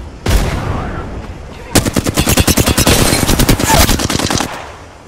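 Enemy gunfire in the battle royale shooter Apex Legends: an opening shot, then a sustained rapid-fire automatic burst with evenly spaced, sharp, loud reports, close and dominant over other game sounds.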